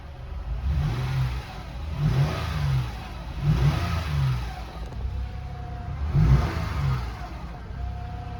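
A worn 2007 Honda Pilot EX with some 300,000 miles, showing a check engine light and a wisp of smoke, revs up in four repeated throttle blips over a steady idle, heard close and fairly loud.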